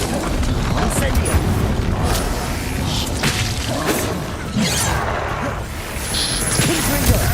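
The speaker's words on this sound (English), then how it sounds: "Incendio." Incendio fire spells cast in Hogwarts Legacy, repeated whooshing bursts and booming impacts amid combat, loud and dense, with voices talking over the clash.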